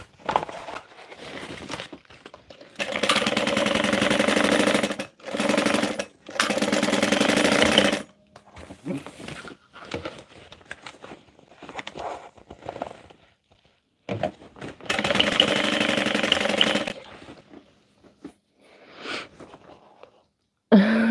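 A sewing machine stitches in bursts to use up leftover thread on its bobbins, running in several loud, steady whirring runs of a few seconds each, separated by pauses filled with quieter handling clicks and rustles.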